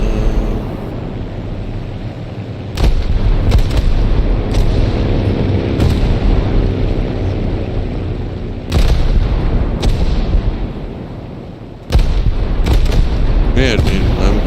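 Explosions in a video game on a development server preview, with several loud, sudden booming blasts landing at intervals over a continuous roar of gameplay noise and bursts of talk.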